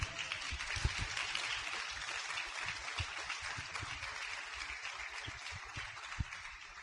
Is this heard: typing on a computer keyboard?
no